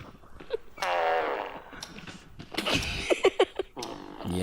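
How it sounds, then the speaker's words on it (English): A fart machine prank sound on a children's TV game show, sounding a long buzzy blurt followed by a quick run of short sputtering bursts, with some voices around it. "Oh no, it's the fart machine."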